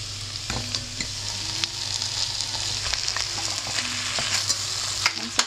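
Chicken stir-fried in a pan for braising with carrots and olives, with a loud constant sizzle and a steady run of spatula scrapes and taps against the metal, close up.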